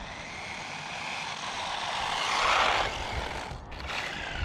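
A DEERC brushless 1:18 scale RC 4WD monster truck speeds past with a loud, steady high-pitched motor whine that swells to a peak midway and then eases off, with no talking.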